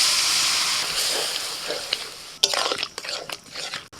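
Mushrooms sizzling in curry masala in a pan, a steady close hiss of frying with stirring scrapes and clatters toward the end.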